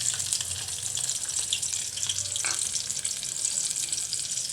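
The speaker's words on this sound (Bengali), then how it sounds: "পাতিলটা বসিয়ে দিয়েছি, দিয়ে দেব তেল। গরম হয়ে গেছে, দিয়ে দেব পেঁয়াজ কুচি।" Chopped onions frying in hot oil in a pot, a steady broadband sizzle running the whole time with a brief clink of a utensil partway through, close and fairly loud, no talking.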